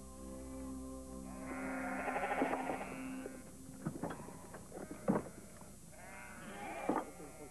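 Sheep bleating on a Patagonian estancia, several drawn-out wavering bleats from a few animals at moderate distance over a quiet background hum.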